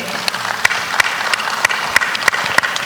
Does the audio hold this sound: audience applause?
yes